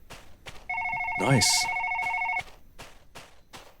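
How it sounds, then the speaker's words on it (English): A telephone rings in the Korean setting of the video game The Way Home, with two bursts of steady tonal ringing, loud and close, while a voice speaks briefly over it. "There's the phone."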